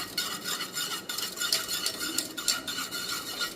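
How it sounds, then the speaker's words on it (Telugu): Stirring and mixing spiced ingredients for a Telugu buttermilk curry in a pot, a steady scraping and clinking of a spoon against metal that repeats in quick strokes throughout, close and fairly quiet with no talking. "ఇప్పుడు ఇదంతా కూడా ఇలా మనం మిక్స్ చేయాలి కలిసిపోయేలాగా మిక్స్ చేయాలి"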